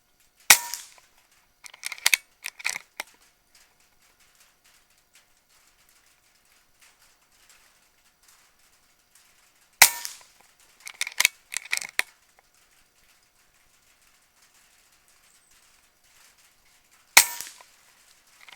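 An Air Venturi Avenger .22 PCP air rifle fires three sharp, loud shots spaced several seconds apart, each followed by brief clicks and clatter of handling, with quiet between.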